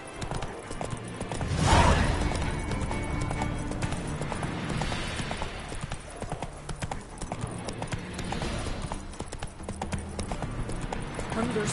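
Rapid rhythmic hoofbeats of a horse galloping in the video game The Witcher 3, close and continuous over a dirt path, with a rider's voice briefly heard.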